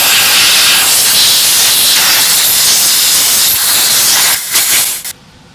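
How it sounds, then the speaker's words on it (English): A compressed-air wand blasts loudly and continuously to clean around the valve cover and ignition coils of a 3.5L EcoBoost V6 in a 2017–2021 Ford F-150, ending with a few short sputtering bursts before cutting off. "we're gonna get our air wand out, clean the valve cover area"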